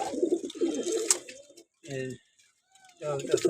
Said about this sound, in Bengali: কালো গলা দিয়ে করা সুন্দরী কবুতর